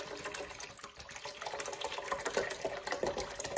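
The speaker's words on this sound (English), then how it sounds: "we're gonna go ahead and pour some water in here." Water is poured steadily into a dog water fountain, making a continuous close splashing and trickling with no talk.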